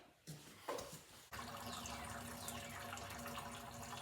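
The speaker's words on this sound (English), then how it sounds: "We've got the radiator draining." Coolant drains from the radiator of a 2012 Ram 1500, a few brief clanks and then a steady close splashing pour of liquid that runs on without a break.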